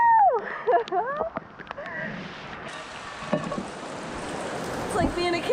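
Rain drums on the deck of a catamaran yacht, a dense hissing patter that fills the air after an opening burst of excited shouting, with occasional thumps and voices cutting through the downpour.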